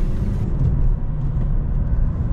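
Car pulling onto a fast road during a French driving licence test in Montgeron, the engine rumbling low and steady inside the cabin as it accelerates, with no talking.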